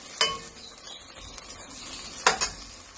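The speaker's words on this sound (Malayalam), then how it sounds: "കുറച്ച് ഉണക്കമുളക് ഇട്ട് കൊടുക്കാം." Dried red chillies dropped into cooked tomatoes for a chicken curry give a faint steady sizzle, with two brief bursts of scraping or stirring near the start and end, no talking.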